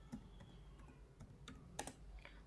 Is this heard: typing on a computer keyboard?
yes